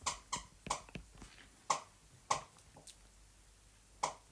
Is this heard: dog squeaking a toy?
yes